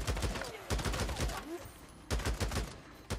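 Gunshots ring out in the video game Days Gone as repeated rapid bursts of loud, sharp cracks with short pauses between volleys, with faint talk underneath.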